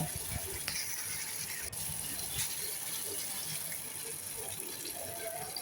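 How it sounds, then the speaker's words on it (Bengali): A cup of water pours into a pan of ridge gourd and egg curry, giving a soft, steady rush and gurgle, fairly faint and close. "1 কাপ পরিমাণ পানি দিয়ে দিলাম।"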